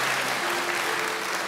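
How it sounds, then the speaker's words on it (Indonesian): A church congregation at a worship service claps together in a steady, dense wash of applause that fills the whole moment, with no voice standing out. "Tepuk tangan bagi Allah kita"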